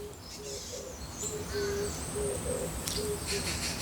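An oriental turtle dove coos near a garden bird feeder, soft low repeated hooting notes in a steady rhythm at moderate distance, with faint higher bird calls and chirps in the background.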